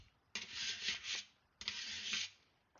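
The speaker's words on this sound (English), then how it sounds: "This inside edge I can't get the deburring tool into, so what I use is a coarse file and a wood block," A thin metal file drawn along the inside edge of an aluminum airplane wing skin during aircraft building: two long, raspy broadband strokes of about a second each, close and fairly loud, with short quiet gaps between them.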